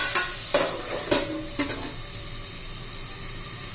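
Ridge gourd sautéing in a pan on a gas stove, a soft sizzle with a few sharp scrapes and clinks of a spatula in the first two seconds, then a quiet steady hiss.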